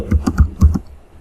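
Quick bursts of key presses on a computer keyboard as a quiz question is typed in, about five crisp close clicks in a short run, then quiet.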